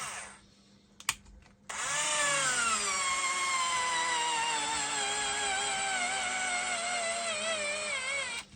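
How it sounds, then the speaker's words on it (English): Makita 4.8V cordless drill driving a screw into knotty wood, a steady loud motor whine that rises and holds for several seconds, close up, after a short click and brief handling noise, no talking. "I'm going to drive one more screw in"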